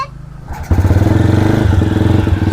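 A motorcycle engine idling after a brief lower rumble, then settling into a steady, loud, close chugging rhythm with no talk over it.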